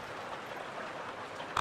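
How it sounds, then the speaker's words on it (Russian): Rain patters steadily in the game Among Trees, a constant soft wash of drops ending in a short brighter click. "Серьезно, дождь? Да, правда, дождь."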